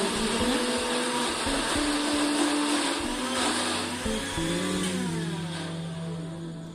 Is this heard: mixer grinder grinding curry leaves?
yes